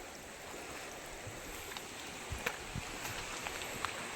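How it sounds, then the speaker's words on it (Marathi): Water trickles and flows out from between stones and the ground beside a village river, giving a steady soft wash of running water with a few small splashes, fairly quiet and without talk. "पाणी बघा कसं येते दगडातून, जमिनीतून"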